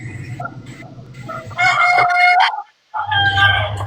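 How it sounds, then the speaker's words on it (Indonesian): A chicken crows loudly and close by, a long strained call broken by a brief gap, with clucking underneath. "Itu ayam loh, bukan anjing."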